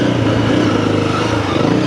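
A Honda CRF300L motorcycle engine pulls under throttle on a muddy off-road trail, a loud, close, steady low drone with slight rhythmic wavering and no break.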